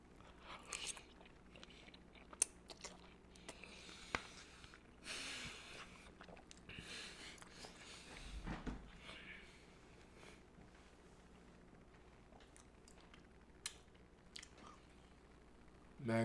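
Quiet, close mouth sounds of someone chewing a piece of steak, with soft wet bites and crunches scattered irregularly over a low background and a few breaths.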